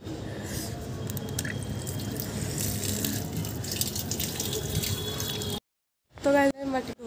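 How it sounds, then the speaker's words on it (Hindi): Water splashes and trickles steadily while a clay matka pot is washed, then cuts off abruptly, followed by a brief burst of handling noise and a voice. "और अभी मैं मटका धो रहा हूँ"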